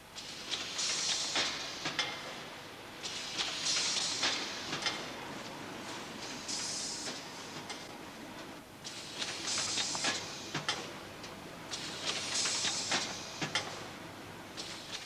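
An ice cream factory machine packing ice creams ten to a box runs with a steady, rhythmic mechanical clatter and hiss, pulsing in regular bursts about every three seconds, close and continuous with no talk.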